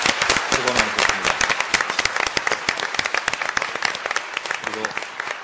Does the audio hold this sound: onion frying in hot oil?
no